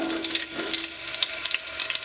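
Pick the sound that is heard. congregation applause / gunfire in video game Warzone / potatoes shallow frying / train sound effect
potatoes shallow frying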